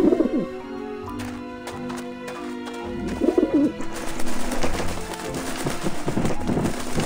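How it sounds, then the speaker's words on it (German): Pigeons in the Grim Fandango Remastered video game, with a few soft, throaty coos coming in bursts over game music, followed by a burst of fluttering or flapping. "Verzieht euch, ihr Vögel!"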